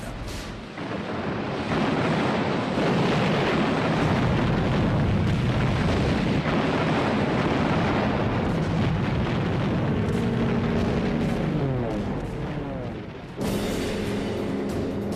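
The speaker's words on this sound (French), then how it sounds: "ils sont constamment soutenus par les tirs de barrage de l'aviation et de la marine" A World War II air and naval barrage fires in support of troops climbing rocky ground, a loud, dense, continuous roar of blasts and rumbling explosions that barely lets up.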